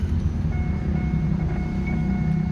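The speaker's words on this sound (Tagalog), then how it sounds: "Engine start." A 2014 Chevrolet Colorado pickup engine runs with a steady, close low rumble, and faint tonal chimes sound above it throughout.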